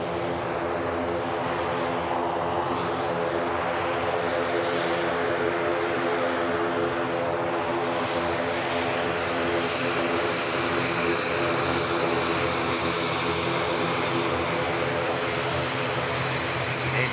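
An ATR turboprop airliner bound for the Isle of Man taxis at Manchester Airport, its propeller engines droning in a steady, fairly loud hum with a buzzing tone that holds throughout with no talk.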